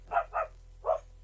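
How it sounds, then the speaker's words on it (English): A dog barks three times, short sharp yaps in a quick pair and then one more, slightly muffled as if from behind a wall, over a quiet background with no talk. "That's a dog, I tell you, a dog barking behind the wall."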